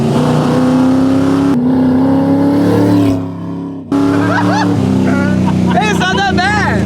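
A 340 Duster, back on the road after sitting abandoned for 30 years, drives with its engine droning steadily and briefly dipping in the middle; people talk over the engine noise throughout.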